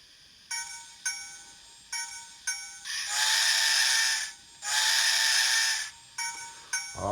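A DCC sound-equipped model steam locomotive on a large-scale layout gives a series of whistle toots: several short blasts, two long sustained ones, then more short bursts, clear and close with little background.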